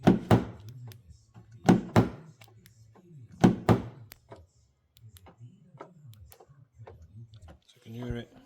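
A Mercedes SLK 250 door lock that will not open clicks and thunks in a series of sharp mechanical actuations, several louder knocks early on followed by softer clicks, close up.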